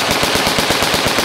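Rapid automatic rifle fire, a continuous burst of evenly spaced loud shots at close range with no talking, from a 30-round magazine.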